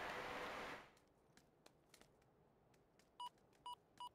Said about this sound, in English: A lot of beeping.